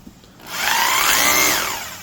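A Bosch SDS+ rotary hammer drill whirs up loudly, rotating and hammering at once, holding a rough, buzzing grind for about a second before winding down, close and alone.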